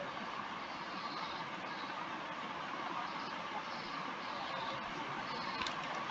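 A train in the Roblox game Dead Rails gives a steady, continuous rumbling roar with a faint clack near the end, even in level and without speech.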